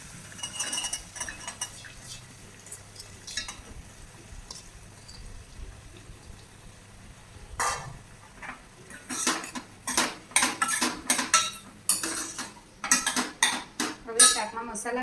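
Chopped cauliflower tipped into a pan and stirred with a metal spoon for a Gujarati cauliflower dish: quiet at first, then a run of sharp, irregular clinks and scrapes against the pan in the second half.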